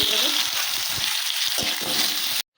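Eggplant sizzles in hot oil with a bright, steady frying hiss throughout, broken by a few low clanks and scrapes of stirring, then cuts off abruptly near the end.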